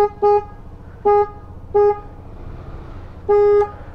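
Motorcycle horn on a bike recovered after an accident, with low pickup and an engine fault: four short, loud, close toots in an uneven rhythm over a low engine rumble.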